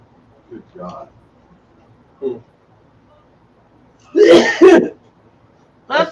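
A person sneezes nearby with a brief double burst, set among quieter vocal sounds and a few short throat noises, while a group of people chat during a tabletop game.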